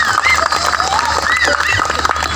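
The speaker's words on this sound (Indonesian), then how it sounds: "Tepuk tangan untuk operator" Applause from an audience at a sholawat gathering in Kampung Sumur, Cikampek, a dense, loud spread of clapping mixed with shouts and cheering voices throughout.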